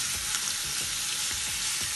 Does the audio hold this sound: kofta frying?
yes